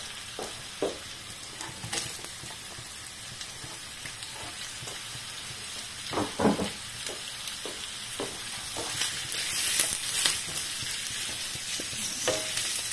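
Onions for an eggplant adobo sauté hit a pan and fry with a steady sizzle, broken by a few sharp stirring clatters and scrapes of a utensil against the pan.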